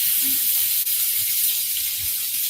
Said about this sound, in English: now you're going to hear it sizzle because we're going to put it in there